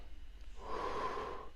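A slow, steady breath drawn in during a guided lying-down meditation, soft and close, swelling from about halfway through and holding steady to the end.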